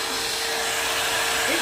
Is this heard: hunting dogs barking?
no